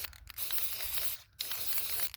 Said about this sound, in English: notice where all this spray is headed